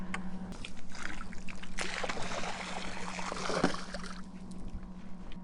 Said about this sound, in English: Okay, so we just put the hose in the pool, and what that's going to do is add some water to our water level